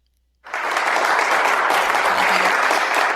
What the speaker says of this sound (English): This is clapping.